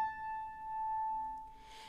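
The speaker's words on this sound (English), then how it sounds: "So the string vibrates 880 times per second." A single sustained piano A, one octave above A440, rings clear and steady on its own, holding for about two seconds with little decay.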